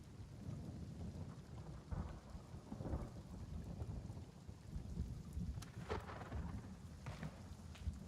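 Steady rain and rolling thunder inside the space game Elite Dangerous, with rumbling low booms swelling around 2, 3 and 6 seconds over constant patter, heard through a headset with no talking.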